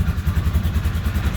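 A 2006 Hoss CFMoto 4x4 side-by-side idles up close, its engine putting out a loud, low, steady chugging pulse with an even rhythm throughout and no other sound.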